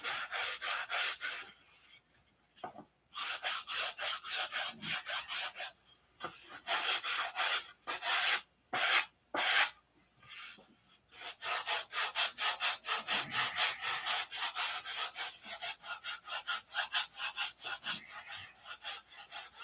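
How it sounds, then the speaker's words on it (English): A wooden flap for a P-47 model is hand-sanded in long, rhythmic back-and-forth scratching strokes, close and steady, with a few short pauses between bursts and no talking. "I've shown you how to sand this again"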